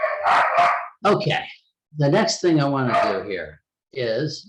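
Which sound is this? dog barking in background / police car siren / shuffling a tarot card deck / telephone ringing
dog barking in background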